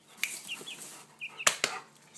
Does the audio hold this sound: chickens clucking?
yes